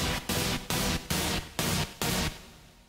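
A loud house-style synth chord from an Ableton MIDI chord effect stabs in a steady rhythm, six evenly spaced hits with short gaps, the last one ringing out and fading.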